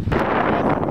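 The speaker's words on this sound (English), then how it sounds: "It's so, like, windy out here." Strong wind buffets a microphone on a high outdoor lookout by a forest in daylight, giving a loud, continuous rumbling roar with brief gusty swells.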